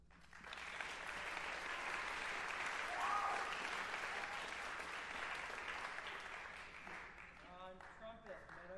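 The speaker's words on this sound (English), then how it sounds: "let's give them a nice round of applause" Applause for seniors at a high school spring concert, a soft, distant, steady patter of audience clapping that fades slightly toward the end as a voice begins speaking.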